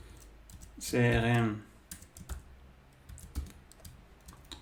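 Someone types on a computer keyboard while building a Django web application. A brief spoken word is followed by light, irregular key clicks at close range.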